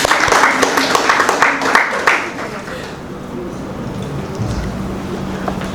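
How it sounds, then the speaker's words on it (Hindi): An audience at a Hindi poetry gathering claps in a loud burst for about two seconds, then the applause fades into quiet room murmur. "तो एक बार जोरदार तालियां आप सभी के लिए।"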